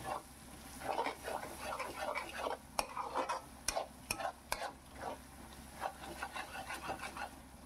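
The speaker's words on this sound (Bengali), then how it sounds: "দেখুন এবার আমি ভালো করে মশলার সাথে পেঁয়াজটাকে কষিয়ে নিচ্ছি।" Onions frying in oil with spices for chicken do pyaza, stirred with rhythmic scraping strokes and sharp spoon knocks against the pan over a steady sizzle.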